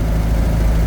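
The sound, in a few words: 1928 Ford Model A overhead valve race car engine running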